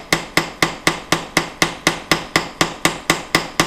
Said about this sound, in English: I'm just gonna peen over first on one side, then the other side, with a little peening hammer